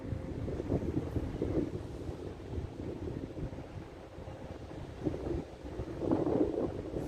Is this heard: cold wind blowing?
yes